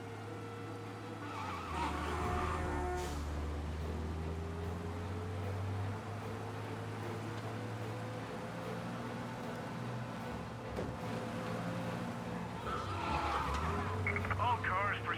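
A car driving fast in the video game Mafia, a sustained engine roar with rising and falling pitch and brief tire-squeal bursts, loud and continuous with voices speaking over it.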